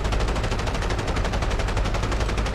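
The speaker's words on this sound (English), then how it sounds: "Machine gun won't do any damage" Sustained machine gun fire in the DCS combat flight simulator, a dense rapid rattle of shots running without pause, loud and close with no talk.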